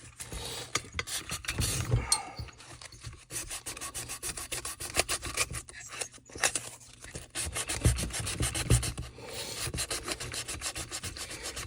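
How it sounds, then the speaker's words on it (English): Hand sanding with 220 grit sandpaper, repeated back-and-forth rubbing strokes at an even rhythm, close and fairly quiet with no talking. "Sandpaper. And this happens to be 220."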